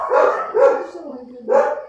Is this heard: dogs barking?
yes